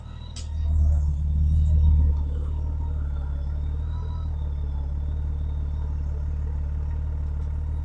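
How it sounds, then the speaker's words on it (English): A motorcycle engine rumbles steadily at close range, swelling louder for a second or two with some clatter before settling into a continuous low idle. "I'm going to get the motorcycle, maybe back it up here"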